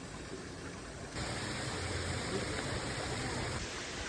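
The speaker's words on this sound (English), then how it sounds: "Pretty waterfall." Steady broadband rush of a waterfall at a hiking spot, continuous and fairly loud, swelling a little partway through, with no voices over it.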